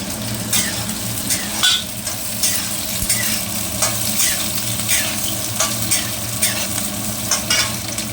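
Onion and capsicum stir-frying in a pan for chilli chicken, a loud continuous sizzle broken by repeated scraping strokes of a spatula against the pan, close up and with no voices.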